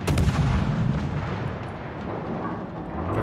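Warship artillery in the naval combat video game World of Warships, a loud, continuous rumble of heavy gunfire and booming blasts filling the whole stretch with no talk.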